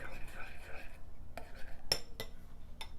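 A spoon stirs hot, bubbly cheese sauce in a pot, giving a few sharp clinks and scrapes against the metal over a low hum of background noise.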